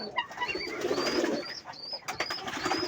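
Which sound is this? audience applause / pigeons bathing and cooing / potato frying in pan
pigeons bathing and cooing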